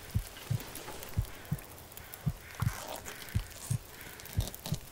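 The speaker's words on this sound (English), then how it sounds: "Oh, the heartbeat." Heartbeat sound effect in the video game The Long Dark, a quiet, regular low double thump repeating about every second over faint ambient noise.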